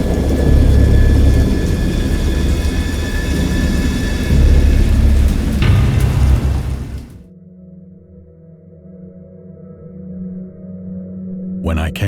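A raging thunderstorm at sea, loud rumbling thunder and dense rain roaring for about seven seconds, then cutting abruptly to a quieter low hum with a faint rise at the end.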